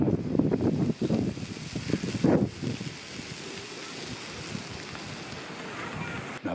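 Strong wind while riding a motorcycle along the Marguerite Route in Denmark, a loud buffeting rumble that drops to a softer steady rush.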